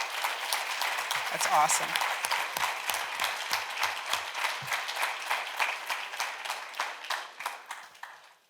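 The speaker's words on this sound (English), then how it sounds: "Would everyone please give Maddie and Lucy another round of applause for their bravery?" A township trustees meeting audience applauds two honorees, dense clapping that thins and fades toward the end, with a voice briefly speaking over it.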